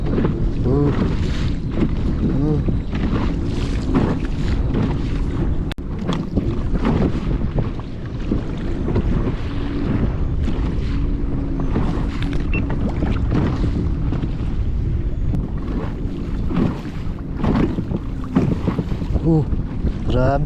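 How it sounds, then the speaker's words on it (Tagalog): Strong sea waves slap and wash around a fishing kayak out on rough water, under constant loud wind buffeting the microphone, with splashes and knocks against the hull throughout. "Grabe, ang alon pala ngayon, oh."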